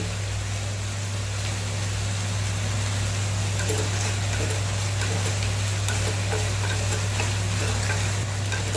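Mustard seeds crackle and pop steadily in a hot dry pan, a dense close-up sizzle running throughout over a low hum.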